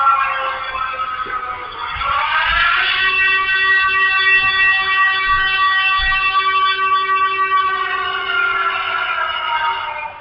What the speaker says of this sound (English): Also is the air raid siren.